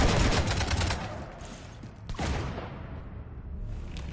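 Gunfire bursts from the Mass Effect 3 video game, a dense rattling volley at the start followed by a sharp single shot and fading echoes, loud and close with no talking.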